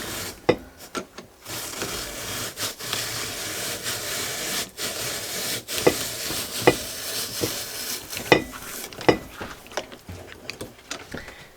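A hand-cranked apple peeler pares and slices an apple, giving a steady scraping, rubbing rasp broken by sharp clicks and knocks from the mechanism, close and moderately loud with no talking.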